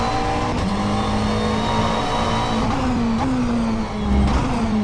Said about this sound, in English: I feel like those downshifts are a little more impacty.